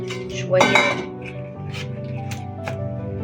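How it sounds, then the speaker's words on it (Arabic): A whisk clinks and scrapes against a bowl while cake batter is mixed, with a loud flurry of metallic clatter early on that settles into steadier, softer stirring. "شويه للخليط وانا بخفقه اهو"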